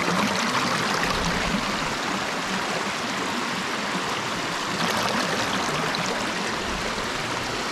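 A woodland river rushes steadily past, a dense broadband wash of flowing water heard close and loud throughout, with no voices.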